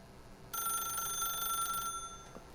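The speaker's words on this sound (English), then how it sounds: "then pick up the phone" A telephone rings in The Stanley Parable video game, a steady electronic ring starting suddenly and continuing loud and close for about a second and a half before stopping, with no talk over it.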